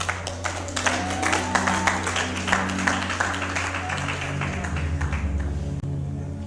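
An audience claps at a talk on culture, with many sharp, overlapping hand claps ringing out fairly close over a steady low hum.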